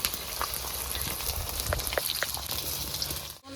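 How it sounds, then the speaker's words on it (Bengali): Chopped ginger and onion frying in a pan of hot oil, a loud continuous sizzle and crackle with scattered pops, close up, ending with a brief drop. "এবার দিয়ে দেবো কুচনো আদা, সঙ্গে কেটে রাখা পেঁয়াজ দিয়ে দেবো।"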